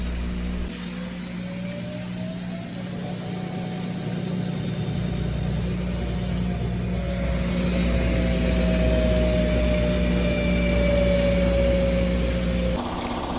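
A Whirlpool Duet Sport washer runs its final spin cycle with a full load, a steady motor hum and whine slowly rising in pitch as the drum speeds up.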